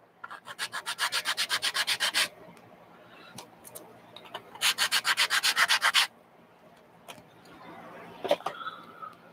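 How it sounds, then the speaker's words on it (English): Rhythmic back-and-forth sanding of plywood with a sanding block, two fast bursts of steady strokes separated by pauses and a few knocks. "Sand these down a little bit."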